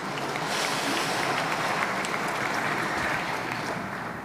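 A large audience applauds during a speech by Emmanuel Macron on Europe and Africa, producing a continuous, wash-like roar of clapping that holds steady and fades slightly at the end.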